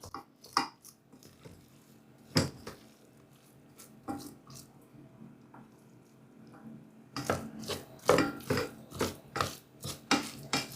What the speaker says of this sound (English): mix the rice, always cutting through it, never stirring like this